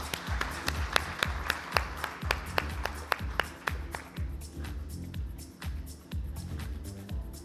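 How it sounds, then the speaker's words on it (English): Rhythmic clapping from a small conference audience, steady and moderately loud, with a few sharper claps standing out over a light background murmur. "Can we have a round of applause?"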